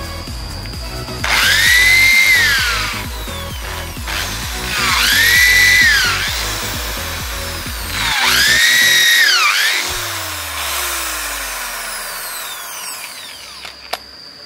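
A power drill bores a test hole into red sua tree wood in three loud, whining bursts of about two seconds each, each one rising and then falling in pitch, followed by a quieter winding-down tail.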